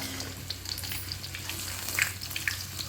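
Onion pakoras frying in hot oil, a steady close sizzle with small crackles and pops, under a low background hum.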